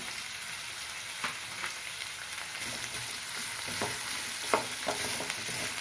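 Potatoes and drumsticks frying in a pan for sambar, a soft even sizzle with occasional scraping stirs and light clinks of the spatula, fairly quiet and close, no speech.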